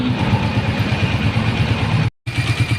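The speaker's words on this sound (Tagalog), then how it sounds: "Naririnig nyo ba yung pito ng aking motor, yung makina?" A motorcycle engine idles with a steady, pulsing rumble and a thin, constant whistle riding above it, broken by a brief silent gap near the end.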